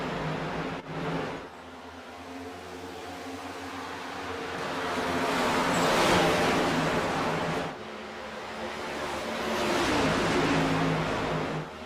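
NASCAR stock cars racing at Dover's Monster Mile in a racing video game, a broad roaring engine wash that swells and fades as the pack passes, with a brief dip partway through.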